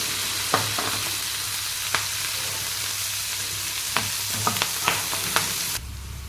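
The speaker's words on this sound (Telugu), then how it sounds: "మెంతి కూరను పచ్చి వాసన పోయే వరకు లో ఫ్లేమ్లో ఫ్రై చేసుకోవాలి" Fenugreek leaves frying over a low flame send up a steady, soft sizzle, with scattered sharp clicks of stirring against the pan and no voices.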